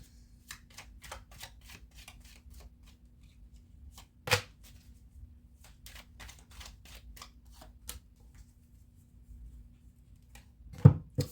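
Tarot cards are shuffled and drawn: soft, scattered papery snaps and flicks sit over a quiet room hum, with one sharp slap midway and a louder pair of card smacks at the end. No one speaks.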